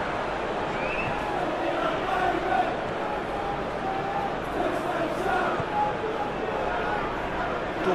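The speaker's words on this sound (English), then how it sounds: "Crowd appreciates good football all round there." Crowd noise from a simulated Premier League football match between West Ham United and Burnley in eFootball 2022, a continuous broad stadium roar of cheering and applause running steadily under a commentator's voice.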